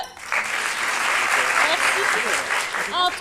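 Audience applause at an improv show in Paris, a steady wash of clapping that fills the room, with voices calling out and a brief voice near the end.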